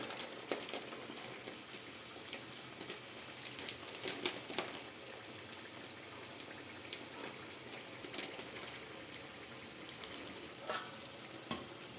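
Sago chekkalu, flattened discs of soaked sago, fry in hot oil for a Sankranthi snack, giving a steady, close sizzle with scattered crackling pops and occasional stirring clinks throughout.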